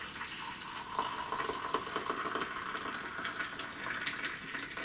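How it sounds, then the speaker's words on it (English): Hot water pours steadily to dissolve chicken stock for a cabbage soup, a constant hissing gush that runs unbroken, alone, at moderate volume. "So here's the hot water."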